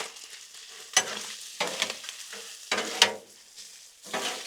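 Sloppy joe pasta stirred on a Blackstone griddle, seasoned with garlic powder and chili powder: several distinct scraping stir strokes in an uneven rhythm over a steady low sizzle, close and moderately loud, with no talking.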